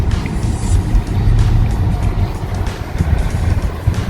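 A new Ford full-size conversion van on a test drive gives a steady low road rumble and engine drone, continuous and fairly loud from inside the cabin.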